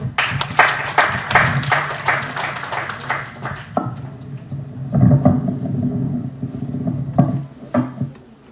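A school audience applauds to welcome student dancers onto the stage, with loud, dense clapping at first that thins into scattered claps and then fades.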